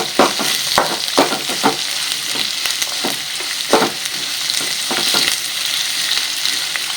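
Poha (flattened rice) being stirred as it dry-roasts in a pan over fairly high heat: steady close sizzle and crackle with repeated scraping strokes at an irregular pace, no voices.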